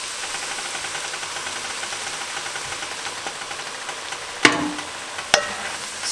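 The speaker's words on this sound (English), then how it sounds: "Stir that in until it is soaked up by all the melted butter" Flour is stirred into melted butter in a pan of sizzling mushrooms, onion and garlic, giving a steady close frying hiss with two sharp spoon clinks near the end.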